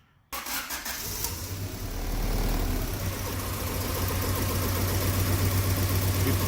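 A Honda Civic with an H22 engine cranks and fires after a brief silence, then settles into a loud, uneven, lumpy idle that runs rough and close by.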